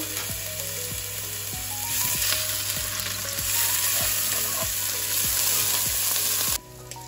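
Onion, ginger and garlic paste frying in a pan for jackfruit biryani, with a loud continuous sizzle broken by regular scraping strokes of a stirring spoon, close up and without talking.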